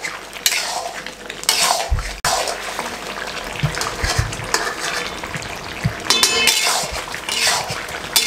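Chicken karahi is stir-fried in ghee in a pot over high heat, with loud, steady sizzling broken by repeated metallic scraping and clanks of a utensil against the pot.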